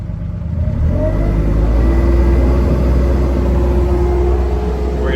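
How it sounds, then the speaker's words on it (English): The engine of a GiANT G2700 HD+ loader, heard from inside its enclosed cab, rises into a loud, steady drone after a brief lower idle. The sound holds as a close, constant mechanical hum with no speech. "if you can hear the engine going up and down or not"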